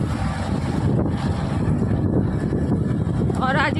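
Cold wind rushing over the microphone during a ride on a two-wheeler, a steady loud broadband roar that runs the whole time with no break.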